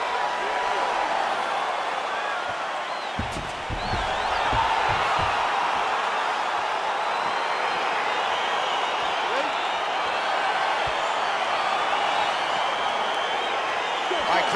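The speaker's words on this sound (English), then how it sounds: "Crowd getting excited as this fight gets underway" Arena crowd noise from a UFC 4 video game fight, a steady dense roar of cheering that swells as the bout begins and holds loud throughout, with a few low thumps early on and commentary voices running underneath.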